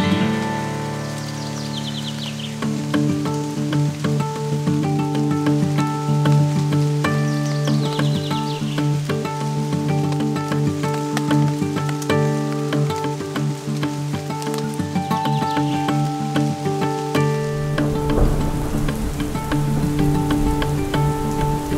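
Steady rain patters on a surface throughout, with a sustained tonal drone and occasional drips; a brighter splashing burst toward the end.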